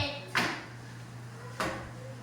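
A door inside a house opens with two sharp knocks or thumps about a second apart, close and clear over a low steady hum.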